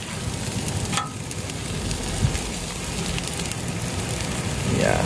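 A New York strip steak sears on a Blue Rhino Razor griddle, giving a steady crackling sizzle with a few brief clanks of a spatula. Someone talks over the sizzle.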